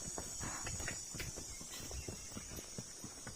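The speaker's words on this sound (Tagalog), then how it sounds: "Kabayo." Horse hooves clip-clop along in an irregular walking rhythm, moderately near and fairly quiet, with no talk over them.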